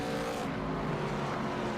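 Race car engine droning steadily on an ARCA-style oval at Kansas, a continuous loud roar with a brief shift in tone midway, no voices.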